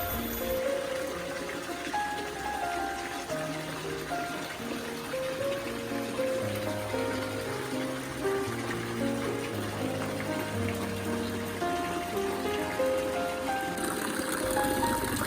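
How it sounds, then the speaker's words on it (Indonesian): Water spouts from an ancient stone statue of the goddess Laksmi into an old bathing pool, a steady trickling flow heard under soft background music. "Ini adalah arca dari Dewi Laksmi, di mana air mengalir melalui 2 payudaranya"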